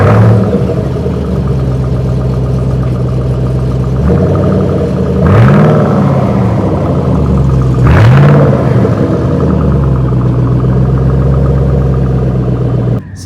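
A Ford Mustang engine at a cars-and-coffee show holds a loud, close, steady idle rumble, then rises in two sharp revs with quick drops back to idle before cutting off at the end.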